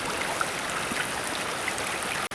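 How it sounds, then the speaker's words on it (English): A small creek runs through a park near a waterfall, giving a steady, even babbling rush of flowing water that holds close and constant throughout, with no voices over it. "There's a little creek, a little river running down there. Even the sound of that is nice."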